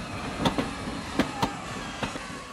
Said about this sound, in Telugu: అయ్యో ట్రైన్ స్టార్ట్ అయింది.